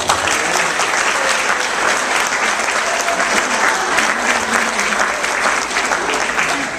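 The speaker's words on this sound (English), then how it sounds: "Can we give Ava a round of applause, please?" A wedding audience claps for Ava during a best man speech, producing loud, sustained applause from many hands that fills the room for several seconds without letting up.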